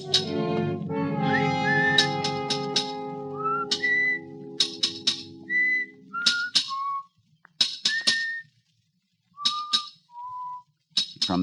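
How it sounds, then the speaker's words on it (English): Someone whistles a cheerful tune in short, bright notes with pauses between phrases, following a brief droning tone at the start. "From the yard itself came a cheery whistle"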